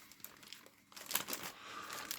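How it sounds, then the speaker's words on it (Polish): A plastic foil bag from a boxed Italeri HMMWV M1036 TOW Carrier scale model kit crinkles as it is opened, with sharp close rustles and crackles that grow busier partway through. "I teraz zaglądamy do torebki foliowej."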